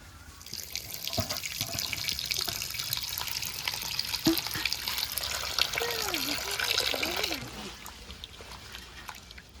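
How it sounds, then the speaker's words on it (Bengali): Tap water runs steadily into a sink as raw chicken is washed by hand, a close continuous splashing stream that stops abruptly near the end, with faint voices in the background. "মাংসটা ধোয়া হয়ে গেছে।"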